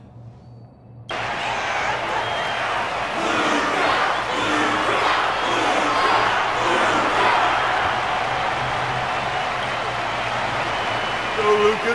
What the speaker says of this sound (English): The audience's passion stays strong. Their constant applause is a salute to this resilient Belabogian fighter